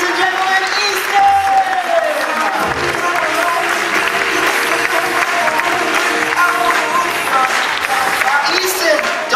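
Theater audience applauds loudly and continuously, a dense wash of clapping with crowd cheering, while a voice speaks over it at the start.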